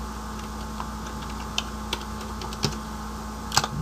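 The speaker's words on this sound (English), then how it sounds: "I might as well just type that in there." Someone types on a computer keyboard in a quiet room with a steady electrical hum. A few sparse, faint key clicks come irregularly, ending with a slightly louder cluster.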